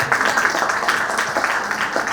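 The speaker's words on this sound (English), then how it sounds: "Let's give a big round of applause for them." An audience at a student performance event applauds the performers with continuous, fairly loud clapping that holds steady for about two seconds.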